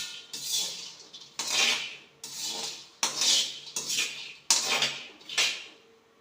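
Peanuts dry-roasting in a pan for Tamil-style peanut candy, stirred in five or six quick bursts of scraping and rattling against the metal, close and fairly loud, with brief pauses between strokes and no talk.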